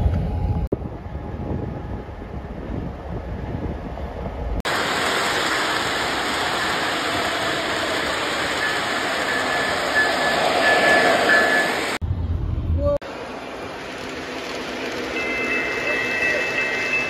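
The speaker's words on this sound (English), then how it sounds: "Here comes another train." A train rumbles past railfans in McKeesport, a broad steady roar for several seconds with heavy wind buffeting the microphone, cut between quieter stretches.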